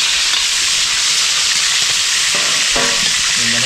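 Onion and chili frying in a pan for a frog and bottle gourd dish, a loud, steady hiss filling the whole stretch, with a few faint stirring scrapes near the end.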